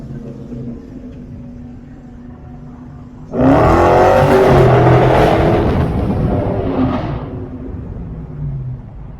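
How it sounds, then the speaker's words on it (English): A 2020 Dodge Charger Wide Body Scat Pack bursts to life and revs hard for several seconds, a deep throaty exhaust roar that swells and then settles back toward a rumbling idle. "the exhaust note that comes out is insane."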